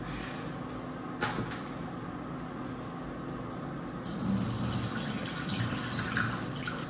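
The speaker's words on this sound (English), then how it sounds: "I'm gonna pour a little bit of this excess water off, because I don't want that in here." Excess water is poured off cooked greens, a steady running splash that continues throughout and grows slightly louder and fuller toward the end, with a brief clatter early on.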